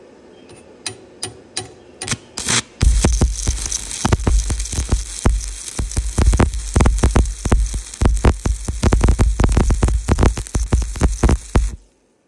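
Stick welding with a YESWELDER YWM-160 multiprocess welder set at 117 amps, a steady loud crackle and sizzle with rapid popping bursts running for about nine seconds after a few sharp ticks, then stopping abruptly.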